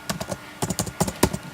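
Fingers typing Java code for a Bukkit Minecraft plugin on a computer keyboard, a quick burst of about a dozen close, crisp key clicks in an uneven rhythm.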